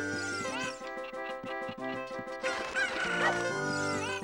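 Cucco chickens from Ocarina of Time, a rapid run of clucks followed by a drawn-out crowing squawk, loud and close, with a low game music bed running underneath.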